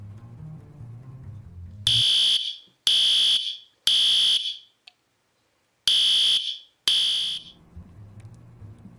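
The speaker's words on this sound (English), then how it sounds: "So here's an example of a fire alarm." School fire alarm sounding in five loud, piercing electronic bursts of about half a second each, separated by short gaps, with faint low background noise before and after.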